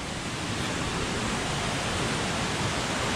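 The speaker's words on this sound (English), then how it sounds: "All right, this waterfall is sick." A waterfall in Laos roars steadily, a loud, even broadband rush of falling water that fills the whole moment with no pauses.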